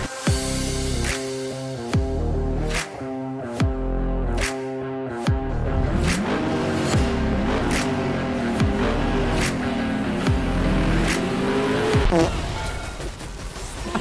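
The Rift Herald in League of Legends drives and drifts with a droning, engine-like roar whose pitch rises and sweeps, broken by sharp clicks and thuds, all steady and up close.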